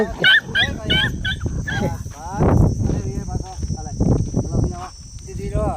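A black dog barks in a few short, sharp yips near the start, followed by people talking at length over faint insect chirring.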